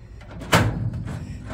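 Drawer of an Einhell workshop trolley from Aldi latching shut, a single sharp metallic clack with a short rattle trailing after it, close and fairly loud.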